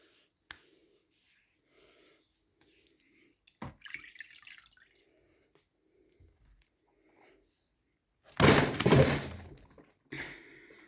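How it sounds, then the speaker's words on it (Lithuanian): A cat falls off a table indoors, landing with a loud, sharp thud and clatter followed moments later by a second, shorter bump, after a long stretch of near silence with faint scattered taps. "Čia mano katė nukrito nuo stalo"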